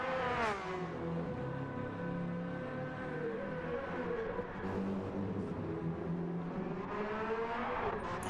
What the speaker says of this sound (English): I heard a BMW driving slow.